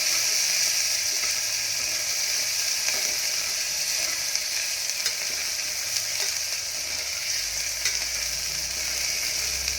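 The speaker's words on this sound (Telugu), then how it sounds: "అవి ఆనియన్స్ వేగిపోయిన దాకా మనము కొంచెం సేపు వేయించుకోవాలండి" Chopped onions frying in hot oil in a pan for spicy pesarapappu pongal, with chillies and pepper powder added, make a steady, loud, close sizzle that runs the whole time, with occasional light stirring scrapes and no talking.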